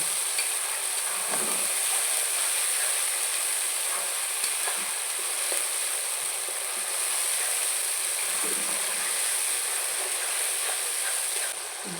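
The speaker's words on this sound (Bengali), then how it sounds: "আদা রসুন বাটা মশলাটাকে এবার আমি ভালো করে কষিয়ে নেব" Ginger-garlic paste fries in a pan while mutton is being cooked in a village kitchen, a bright continuous sizzle with scattered soft scrapes of stirring, close up and without talk.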